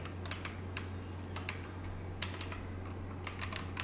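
Code is typed on a computer keyboard in quick, irregular bursts of clicky keystrokes. The typing sounds close and moderately soft over a low steady hum.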